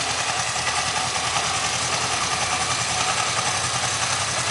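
A Kawasaki 305 motorcycle engine runs at a steady idle, a continuous, loud, close rumble with a constant mechanical buzz and no voices.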